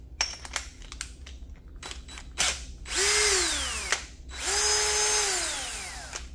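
A 3/4-inch drill whirs up twice with a big wire brush, each run rising to a loud whine that winds down, with clicks and taps in between.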